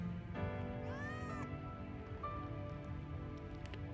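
A cat in Final Fantasy VII Remake gives one clear, rising-and-falling meow, followed later by a fainter short mew, over a steady background hum like rain.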